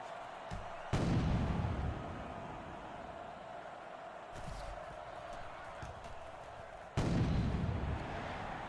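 Cannon blasts in the NFL Head Coach 09 football video game, two loud booming shots a few seconds apart with a rumbling tail, rising over a steady crowd roar.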